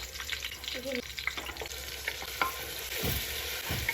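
Onion paste fries in hot oil with bay leaf, cloves and cardamom, a busy crackling sizzle cut by spoon scrapes and stirring knocks, fairly close and steady.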